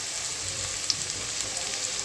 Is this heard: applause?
no